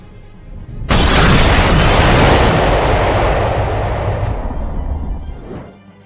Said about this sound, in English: the universe originated by a Big Bang on its own.